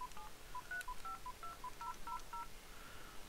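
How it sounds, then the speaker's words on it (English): A telephone number is dialed through a Skype adapter, producing a quick run of about a dozen short, clean DTMF beeps in an uneven rhythm, fairly faint, with no talk. "I'm going to go ahead and dial a telephone number."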